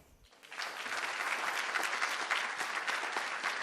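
Sustained audience applause at a student immigration and citizenship event, rising after a brief quiet start into steady dense clapping that fills the room without pause.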